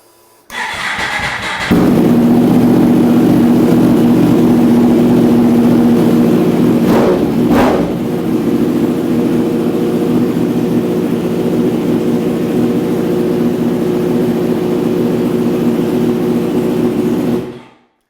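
A Yamaha R1M motorcycle fitted with an eBay aftermarket exhaust cranks and fires, then settles into a loud, steady idle with a couple of brief throttle blips midway, close to the microphone.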